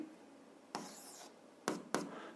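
Chalk or pen scratching out a density formula during a physics lesson, heard as a longer scraping stroke followed by two short, quick strokes, close and fairly quiet with no talk.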